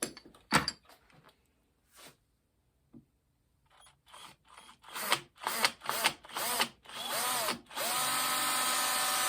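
A drill bores a 3/32 inch hole into a wooden dowel rod: a few sparse clicks and knocks, then a string of short whirring bursts building up to a sustained loud drill run at the end.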